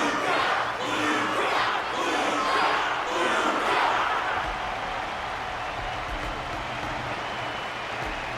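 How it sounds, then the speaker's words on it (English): Audience applauding in Honkai: Star Rail at a Luminary Wardance fighting event, a dense, steady wash of clapping and crowd noise that swells early and then fades slightly, with cheering mixed in. "The audience's passion stays strong. Their constant applause is a salute to this resilient Belabogian fighter."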